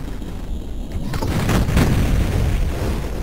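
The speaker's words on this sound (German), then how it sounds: "Ich hab mit dem Raketenwerfer den einen Mieter da weggesprengt." Rocket launcher blast in Duke Nukem 3D, a booming explosion that builds into a loud, sustained rumble with crackling debris.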